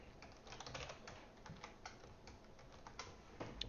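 Close, steady typing on a troublesome computer keyboard, a quiet run of rapid clicking keystrokes with small pauses, no voices.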